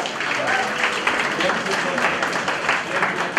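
An audience at a state-level inter-medical-college quiz competition claps in a steady, dense patter of many hands at moderate loudness, with voices talking over it throughout.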